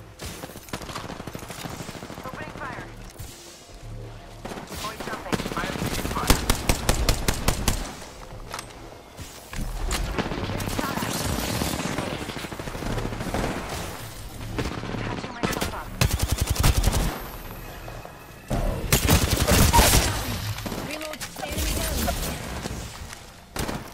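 Gunfire in Apex Legends comes in repeated bursts of rapid automatic shots and fusillades, loud and close, with quieter gaps of game ambience between volleys.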